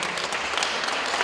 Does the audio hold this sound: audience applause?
yes